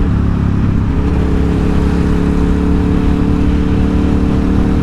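A 2007 KTM 950 SMR motorcycle with a 1000cc V-twin engine runs close and loud, a dense, steady rumbling drone that holds evenly throughout with no talking.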